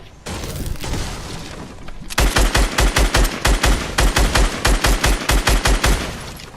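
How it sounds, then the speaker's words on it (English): Gunfire in the video game Fortnite comes as a loud, fast burst of automatic shots in an even rapid rhythm, following a stretch of dense noisy crackling, with no talk over it. "Then you crouch down and you just shoot."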